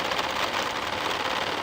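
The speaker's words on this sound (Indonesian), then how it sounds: "itu ada kemungkinan besar dia si motor fan-nya oblak." A worn, loose Nissan March air-conditioning motor fan spinning close to the microphone, giving a continuous whirring drone with a faint uneven, rattly wobble running through it, steady and fairly loud.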